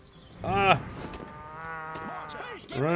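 A cow in the video game Destroy All Humans (2020 remake) moos loudly, then a voice talks briefly before a second drawn-out moo rises at the end.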